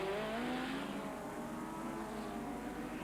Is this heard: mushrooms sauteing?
no